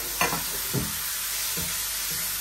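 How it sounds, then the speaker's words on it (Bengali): Meat fries in a pan with turmeric, giving a continuous close sizzle. A few soft scraping stirs and taps sit over the frying. "এখন আবার একটু মাংসটা ভেজে নেই সুন্দর করে।"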